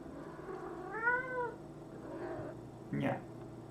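A cat gives a rising and falling meow, then a softer one, fairly faint under a quiet room hum while people chat on a stream.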